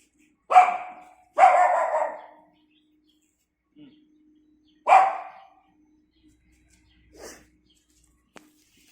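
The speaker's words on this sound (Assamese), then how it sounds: "কুকুৰকেইটা বৰ মৰম লগা দেই।" Dogs bark on a hillside university campus at Rono Hills, Doimukh, near Itanagar: a few loud, close barks, one drawn out, separated by quiet gaps, with a soft chirp and a faint click later.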